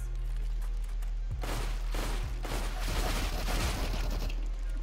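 Gunfire in Counter-Strike rattles in irregular bursts against the Octo King zombie, over a constant low hum and steady game noise, moderately loud with no clear voices.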